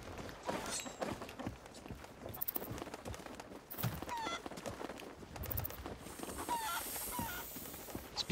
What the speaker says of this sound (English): The chicken can poke his head out of the cage.